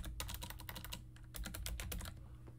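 Computer keyboard typing: a quick burst of close, crisp key clicks in two runs separated by a brief pause, quiet and alone with no talk.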